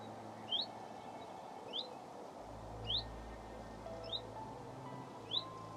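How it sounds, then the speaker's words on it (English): Five short, high bird chirps spaced roughly a second apart, faint and distant over a quiet background hiss. "Lots of birds, I don't know if you can hear them."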